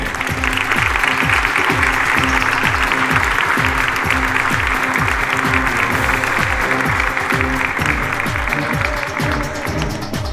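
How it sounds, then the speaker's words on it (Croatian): A large audience at the Miss Universe Croatia 2022 final applauds a top 5 finalist, with loud, sustained, even clapping that lasts the whole stretch over faint background music. "Molit ću da velikim pljeskom pozdravite prvu damu koja ulazi u top 5"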